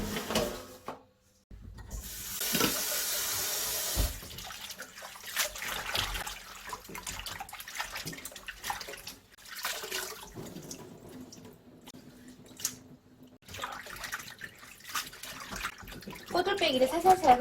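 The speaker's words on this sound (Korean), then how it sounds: "꼬들빼기를 살살살 흔들어 씻어줄 거예요." Godeulbbaegi greens are swished and gently shaken in a basin of water, with splashing and dripping in bursts, sometimes louder sloshes, running under a woman's speech at a close kitchen distance.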